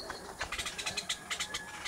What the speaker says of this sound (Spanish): Ahí se escuchan los pájaros.